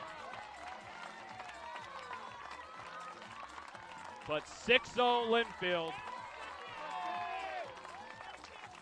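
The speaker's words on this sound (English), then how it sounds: "Big round of applause from Del Smith Stadium." A crowd applauds at Del Smith Stadium during a Linfield women's softball game against Lewis & Clark, a broad wash of clapping rising in short bursts midway while a commentator keeps talking over it.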